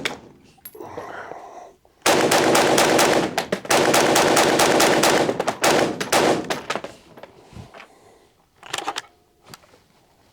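A full magazine fired from a Desert Tech WLVRN rifle, a loud rapid string of close shots lasting several seconds, followed by quieter handling clicks.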